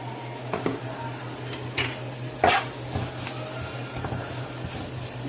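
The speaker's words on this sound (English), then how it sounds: "And stir that flour into that gravy." Flour is stirred into oil, onions and peppers in a pan over a low sizzle and steady hum, with a few scraping clinks of a utensil against the pan.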